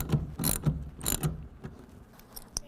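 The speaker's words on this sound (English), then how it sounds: "Then your 1/2 inch wrench or ratchet." A ratchet tightens a tonneau cover clamp on a 2023 Ford F-350 bed, giving several close clicking bursts in quick runs, then fainter clicks and a sharp final tick.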